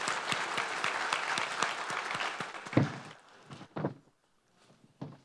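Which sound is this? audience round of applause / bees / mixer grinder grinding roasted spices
audience round of applause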